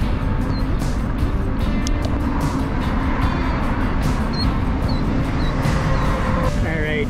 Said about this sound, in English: Very heavy truck action heading straight where I live in Windsor, Ontario, to get across the border at the Ambassador Bridge